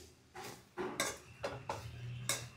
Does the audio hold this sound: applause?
no